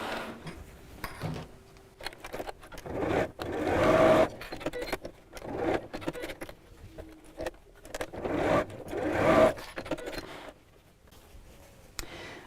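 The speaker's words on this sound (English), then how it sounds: "I'm just going to sew across the ends just to hold that in place" Sewing machine stitching across the ends of a fabric pouch, two bursts of fast buzzing stitching with quieter handling and rustling of fabric between them, close and fairly faint.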